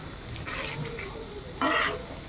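Chicken pakora frying in oil in a village kitchen: a steady close sizzle with soft stirring scrapes, then a louder surge of bubbling oil near the end.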